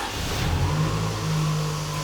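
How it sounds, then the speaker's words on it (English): A car with a newly replaced alternator idles and revs after starting, its engine loud and close with a steady low drone that rises slightly, no talking. "we're gonna start the car"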